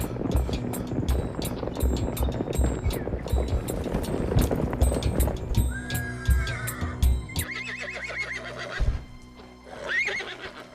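Horses whinny and neigh amid hoof clip-clop and background bustle, with a sharper high whinny near the end after the busier opening settles.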